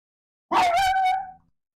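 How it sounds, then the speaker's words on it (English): A dog gives one short, clear bark, fairly close and alone against silence. "The doggy can go and stand on the back step and bark at birds."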